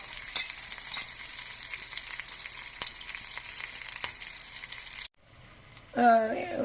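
Curry leaves dropped into hot oil in a pan crackle and sizzle steadily, a soft continuous frying hiss, with a brief louder burst near the end.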